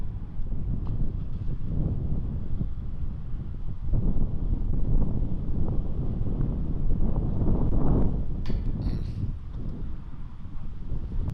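Gusty wind buffeting the microphone on an outdoor disc golf course during a tournament round, a loud continuous low rumble that swells and eases, with no talk over it.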